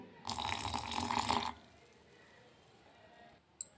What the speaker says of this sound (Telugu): ఇప్పుడు ఇందులో నేను కొద్దిగా వాటర్ యాడ్ చేస్తున్నాను.